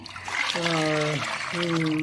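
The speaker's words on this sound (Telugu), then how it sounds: "మంచినీళ్ళు పోసుకుంటూ డైల్యూట్ చేస్తున్నాను" Water is poured into a bucket to dilute nutrient water for rooftop garden plants, a steady trickling pour heard close, partly under a voice that talks over it.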